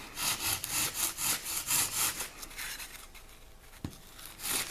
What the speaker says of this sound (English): the rasp makes short work of cutting through the material